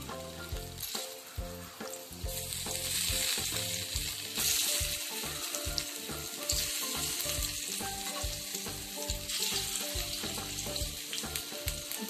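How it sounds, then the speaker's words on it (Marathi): Sliced alu vadi fry in hot oil in a pan, a steady close sizzle and bubbling crackle running throughout, with occasional stirring scrapes and no voices. "आता आपण एक एक वडी अशी काप केलेली फ्राय करून घ्यायची."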